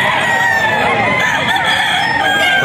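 Roosters crow and hens cluck steadily at a poultry farm, with loud overlapping calls filling the whole stretch and no talk.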